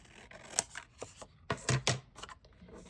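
Scissors snip paper for a file folder pocket craft in a handful of close, crisp cuts, irregularly spaced with quiet gaps and no talking.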